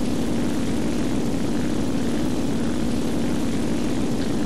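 A propeller-driven TBD torpedo bomber in a flight combat video game drones with a steady, loud engine tone that runs unbroken throughout, with no one talking.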